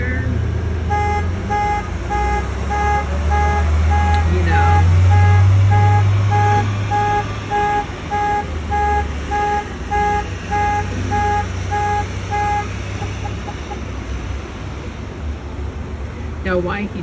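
On Santa Monica Boulevard, a vehicle alarm near a parked van sounds a loud, evenly spaced electronic beep for about twelve seconds and then stops. Street traffic rumbles underneath.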